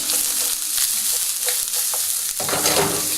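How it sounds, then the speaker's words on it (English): Chopped onion fries in oil in a pan with a bright, constant hiss and crackle, close and loud, stirred partway through with no talk. "Okay, and just fry it up and let it go soft a minute."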